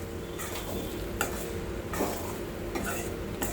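A spoon stirs puffed rice for sushila in a pan, scraping in steady repeated strokes about once a second, close and fairly loud over a soft sizzle.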